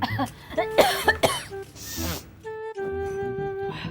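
A burst of several harsh, close coughs from a person with a cold, in quick succession, followed by a raspy throat-clearing breath, with the steady tonal hum of an air cooler underneath.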